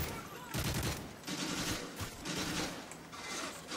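Rapid bursts of automatic gunfire in Modern Warfare 3 survival mode, rattling in quick stuttering volleys at moderate distance with a player's voice briefly over the shooting.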